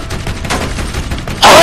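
Gunfire in the Borderlands video game, a dense rapid stream of shots throughout that swells into a loud burst at the end.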